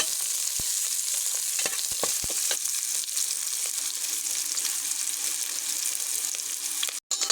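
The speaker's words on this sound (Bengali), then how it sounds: "এখন কেটে রাখা পেঁয়াজ, রসুন, কাঁচামরিচ এগুলোকে আমি ভালো করে লাল লাল করে ভেজে নেব" Onion, garlic and green chili frying in hot oil, a loud continuous hiss and crackle with a few sharp clicks of a utensil, no talk.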